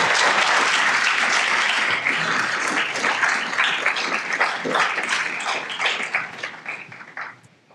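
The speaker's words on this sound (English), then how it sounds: "Let's all give a round of applause for Dr. Joel Westra." A lecture audience gives a round of applause for a speaker on the post-WWII international order, dense clapping that starts strong, then thins into scattered individual claps and fades out.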